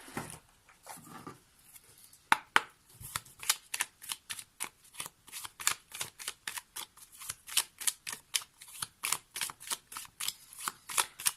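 Playing cards are shuffled by hand up close, a rapid series of crisp riffles and snaps repeating in a steady rhythm, faint and alone after a few soft handling rustles at the start.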